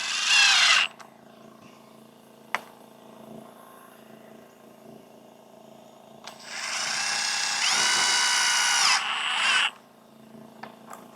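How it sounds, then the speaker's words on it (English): A power drill drives screws into a wooden beam while building an off-grid camp in the Atchafalaya basin: a short whirring burst at the start, a faint knock, then a longer rising whine that runs for about three seconds and stops. "I guess I'll run my screws in there first"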